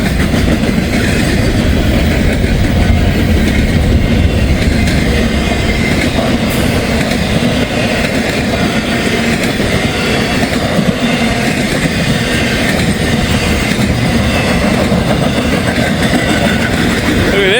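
A fast train roars past a quiet cemetery in a loud, continuous rush of wheel and rail noise with a rhythmic clatter. The sound stays sustained and near throughout.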